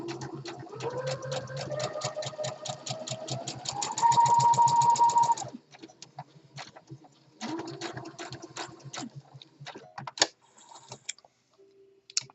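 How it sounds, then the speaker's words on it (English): A sewing machine stitches a crease line on fabric in rapid, even bursts, speeding up to a steady whine before stopping, then running again in shorter spurts with clicks between, close and clear with no talk. "Then you want to sew down the crease line right here."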